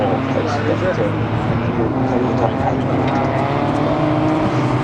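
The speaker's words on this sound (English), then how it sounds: "The cars getting a little bit airborne as we see the car number 110. Right through that dip" Rally car number 110 at the McRae Rally Challenge, driving hard through a dip on a special stage, engine roaring loud and continuous with commentary over it.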